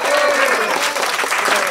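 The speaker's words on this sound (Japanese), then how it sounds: "改めて皆さんで大きな拍手をお願いします。" A concert audience applauds the performers with a short, loud wash of dense clapping that stays fairly even, with cheering voices mixed into the crowd noise.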